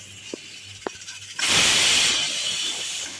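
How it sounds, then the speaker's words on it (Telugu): A pressure cooker on a gas stove lets off steam: a couple of small clicks, then a sudden loud, steady hissing rush that keeps going to the end. "కుక్కర్కి 1 విజిల్ వచ్చిన తర్వాత గ్యాస్ ఆఫ్ చేసుకోండి"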